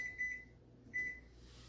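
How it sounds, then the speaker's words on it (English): Kitchen oven timer set while a pineapple cake bakes, giving two short quiet electronic beeps about three-quarters of a second apart in a hushed kitchen. "I'll set the timer on this."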